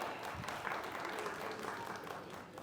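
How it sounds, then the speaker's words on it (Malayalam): Audience applause for a performer being welcomed onto a stage at a Malayalam music album event, a steady wash of clapping that holds at an even level for the whole stretch, with a faint murmur of crowd voices underneath. "നമുക്ക് എല്ലാവർക്കും ഒരു വലിയ കയ്യടി കൊടുക്കാം."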